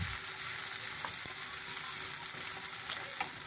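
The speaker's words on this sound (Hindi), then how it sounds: "और इसको पहले हम फ्राई करेंगे" Finely chopped onions and tomatoes fry in hot oil in a pan, giving a steady, close sizzling hiss with a few soft stirring touches and no voices.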